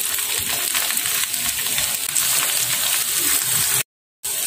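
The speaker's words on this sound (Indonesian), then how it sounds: "Kita goreng tempenya ya teman-teman." Tempeh frying in hot oil sends up a dense, continuous hissing sizzle with light bubbling, loud and close, then breaks off briefly near the end.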